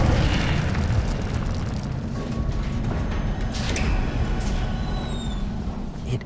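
Fiery burst of the Incendio spell in Hogwarts Legacy, a loud sustained roaring rush with rumbling boom that stays dense for several seconds.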